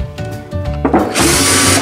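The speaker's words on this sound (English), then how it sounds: "drilling the holes into the gallon jug here" A power drill bores holes into a plastic gallon milk jug, its motor whining up in short bursts before a sustained high, buzzing run as the bit cuts through.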